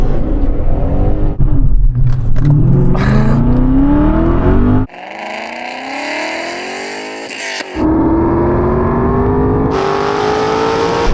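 BMW E39 M5 and Alpina B10 launching side by side in a drag race, engines revving hard with rising gear pulls, a sharp cut to a quieter wind-roar segment, then loud acceleration resuming close by.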